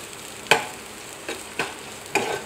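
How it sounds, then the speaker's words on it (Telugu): Chopped onions, green chillies and garlic hit hot oil in a pan, giving a few sharp sizzling bursts with stirring scrapes in between, close and fairly loud against a quiet kitchen background. "ఆయిల్ హీట్ అయిన తర్వాత కట్ చేసుకున్న ఆనియన్స్ గ్రీన్ చిల్లీస్ దాంతో పాటు కొంచెం వెల్లుల్లిపాయలు"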